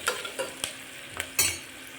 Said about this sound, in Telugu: ఆనియన్స్ కొంచెం ఆయిల్లో బాగా ఫ్రై అయినాక దొండకాయ వేసుకోవాలి.